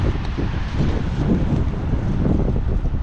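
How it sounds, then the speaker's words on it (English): Heavy wind buffets the microphone, a constant low rumbling roar with gusty fluctuations throughout and no voices. "Wow, it's really windy."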